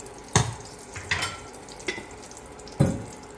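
Sunflower oil and masala frying in a pan, with a few sharp bursts of sizzling and spoon scrapes spread over a few seconds under a steady low hiss, close up and without voices.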